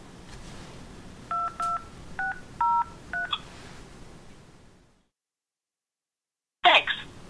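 Telephone keypad tones entering a zip code for an automated service prompt: about six short, evenly spaced beeps, fairly loud and close, followed by a brief silence and then a short burst of noise.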